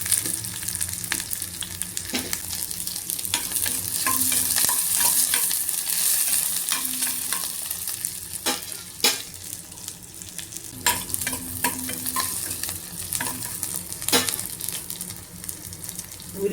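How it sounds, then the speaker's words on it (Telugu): Sliced onions and half-fried bitter gourd pieces sizzle steadily in a pan for Telugu bitter gourd pulusu, with repeated scraping stirs throughout. "ఇప్పుడు ఉల్లిపాయలు వేసుకుందాము."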